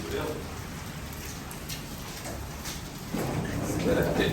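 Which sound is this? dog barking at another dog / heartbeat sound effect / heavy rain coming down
heavy rain coming down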